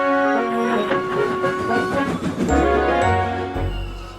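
A steam train runs along rails with a steady rolling clatter under continuous music, and a brief higher tone sounds partway through.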